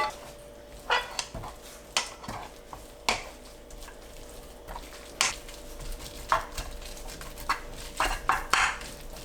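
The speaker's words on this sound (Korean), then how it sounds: "골고루 섞이면 진미채 넣고 버무리세요" Dried shredded squid tossed and mixed by hand in a Chapagetti-style black bean and chili-flake sauce, giving soft, sticky clatters and scrapes in irregular bursts, close and fairly quiet, with a faint steady hum underneath.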